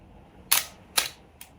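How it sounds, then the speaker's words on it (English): A film camera's shutter fires three times in quick succession, crisp, sharp mechanical clicks close up with the last one fainter, in an otherwise quiet room. "Now this camera's got film in it, so I'm not going to waste a frame. I'm going to frame up, focus and shoot."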